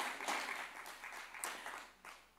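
A church congregation claps in scattered, uneven bursts, soft and somewhat distant, swelling and fading over a couple of seconds.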